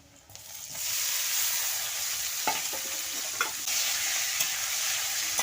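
Loud, continuous sizzling of cauliflower and potato frying in a pan, broken by occasional scrapes and clinks of stirring.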